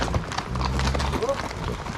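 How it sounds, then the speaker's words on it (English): A horse being ridden on a trail in the Tushar Mountains, its hooves clip-clopping in a steady walking rhythm at close range, mixed with a voice and outdoor background noise. "this horse doesn't know you're on him yet"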